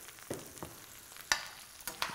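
Fresh skate fish fries in a pan with a soft, continuous sizzle, broken by several sharp clicks and scrapes from a utensil at irregular intervals.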